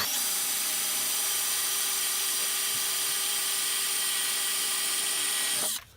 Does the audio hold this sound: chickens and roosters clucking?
no